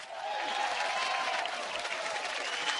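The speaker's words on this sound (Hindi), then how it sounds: "एक बार अनिल कपूर साहब के लिए जोरदार तालियां।" A studio audience at a Hindi comedy talk show bursts into sustained, even applause, a steady wash of many hands clapping at moderate level from start to finish.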